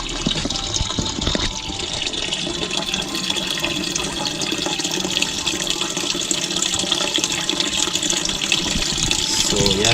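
Water gushes steadily into the drum of a Sharp inverter automatic washing machine as it fills, a continuous broadband rushing that holds level for the whole stretch, close and fairly loud with no talk over it.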